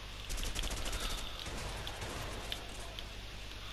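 Rapid automatic gunfire from a weapon in the co-op video game A Way Out, a dense crackling stream of shots with strong recoil, steady and fairly loud throughout with no talking.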